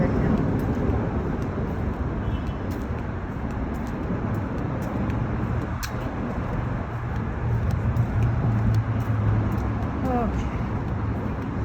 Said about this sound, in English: I'm under the freeway right now.